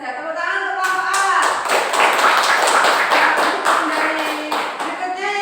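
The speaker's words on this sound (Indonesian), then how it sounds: "Tepuk tangan untuk kelompok A." A primary school class claps for a group of pupils, with rhythmic, fairly close clapping from many hands lasting several seconds while a teacher's voice carries over it.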